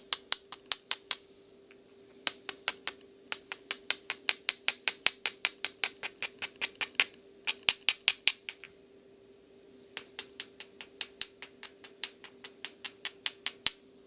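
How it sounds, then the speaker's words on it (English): Sharp ringing taps of a hammer stone on toilet porcelain, struck in quick rhythmic bursts with short pauses between runs, each hit bright and clinking, close up with no talking. "try and get that down with the hammer stone"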